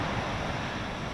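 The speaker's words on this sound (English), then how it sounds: "Ah, the water is so pretty, the ocean." Ocean surf rolling in at Myrtle Beach, a steady broadband wash of breaking waves mixed with wind buffeting the microphone, continuous and fairly loud with no talking.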